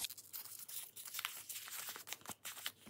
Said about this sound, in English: So I'll just crumple this up first.